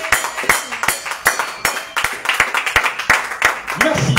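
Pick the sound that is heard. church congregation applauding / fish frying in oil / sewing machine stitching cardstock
church congregation applauding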